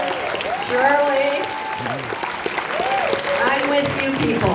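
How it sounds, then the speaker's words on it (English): Loud, continuous applause from a film Q&A audience for Everything Everywhere All At Once, a thick steady clatter of hands mixed with shouted voices and excited crowd noise that holds at full strength throughout. "Clap for these people."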